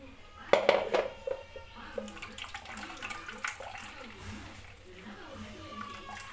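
Ground soaked rice batter being strained, with a few clinks of a utensil against a vessel near the start, then soft wet pouring and swishing, close and fairly quiet, while a person talks throughout.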